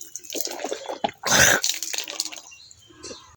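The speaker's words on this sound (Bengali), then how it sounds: "এখন মুখ ধুবো।" Water splashes and drips close by as a face is washed outdoors on a hot, sunny day, with short irregular bursts and one louder splash in the middle.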